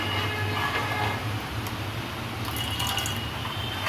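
Vinegar mixed with water is poured little by little into milk and stirred, giving a steady low liquid swirl and gentle sloshing with faint drips, continuous and close.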